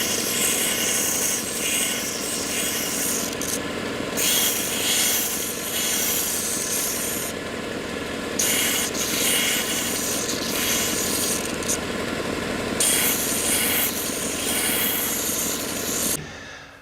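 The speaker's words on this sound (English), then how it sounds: "I'll show you that on the sander" A power sander shapes wooden guitar bracing in a long, loud, steady abrasive whir. The grinding pitch shifts slightly as the wood is pressed and lifted, with brief dips in the texture before it stops.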